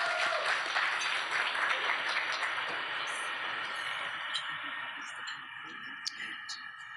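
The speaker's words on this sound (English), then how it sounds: "Please give her a round of applause." Audience applause at a 2023 graduation and launch event: broad, dense clapping from a crowd that starts full and gradually thins and fades, with faint voices underneath.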